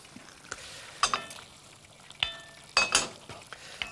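A utensil stirs food in a sizzling pan, several scraping strokes and clinks against the pan spaced over a few seconds, close up with a faint frying hiss underneath.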